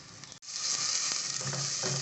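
Finely chopped onion frying in hot oil in a pan, a broad continuous sizzle that starts after a brief cut and stays steady and close, with a few faint scrapes, no talking.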